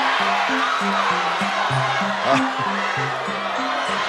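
A studio audience at The Price is Right keeps up a steady, loud roar of reaction, with a stepped game-show tune running beneath it and a single brief exclamation near the middle.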